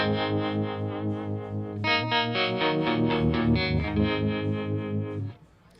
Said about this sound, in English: That's the nice harmonic tremolo you've selected.